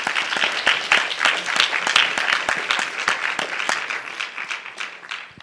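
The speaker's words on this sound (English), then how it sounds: "Please, a round of applause to them." Audience at a celebration event gives the organising team a round of applause, a moderate crowd clapping with many distinct, sharp individual claps audible in the mix, steady and then thinning toward the end.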